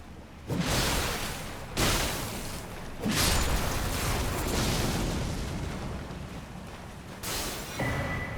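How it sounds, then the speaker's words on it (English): Enemies bursting apart in blood in Elden Ring, a series of loud, heavy explosive whooshes and booms, four distinct blasts with a long rumbling stretch between the third and fourth. "I forgot they explode blood."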